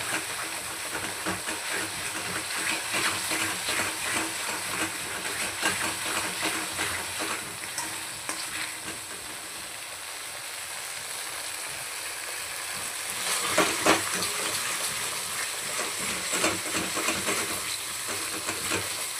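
Ingredients fry in hot oil for a crab curry, producing a continuous faint sizzle with rustling stirring strokes that swell briefly near the end; no voices.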